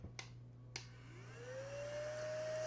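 A small electric desk broom clears up eraser shavings. Two faint clicks come first, then the motor whines up into a steady rising hum that stays quiet and close, with no talk.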